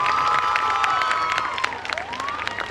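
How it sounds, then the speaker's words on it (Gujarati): An audience at a Sorath Public School event breaks into loud, sustained applause and cheering, with dense clapping and shouts from a crowd that includes children, and a few whistle-like tones carrying over the din. "જોરદાર તાળીઓ"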